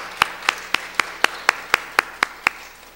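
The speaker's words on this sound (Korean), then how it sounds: "우리 다시 한번 박수로 축복합니다." A worshipping congregation at a church service claps in tight unison, ten crisp, evenly spaced claps at about four per second, clear and close with no talking.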